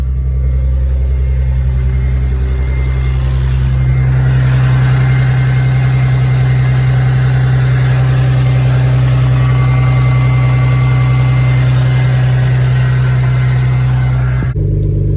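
A car engine that has not run for a while idles steadily with a deep, even drone and faint belt noise, holding a constant note before cutting off abruptly near the end.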